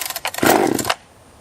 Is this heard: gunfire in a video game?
no